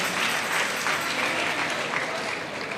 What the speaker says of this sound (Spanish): Damos un fuerte aplauso a la banda.